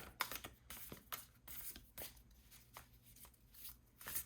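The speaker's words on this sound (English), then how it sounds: "these cards are so hard to shuffle just because they're so, they stick together so much" A deck of archetype cards that stick together is shuffled by hand, giving repeated close papery riffles and flicks in an irregular rhythm, quiet and with no talking.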